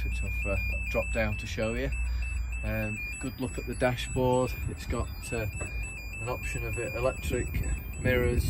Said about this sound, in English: that's just the alarm telling that the isolator is switched on for the tail lift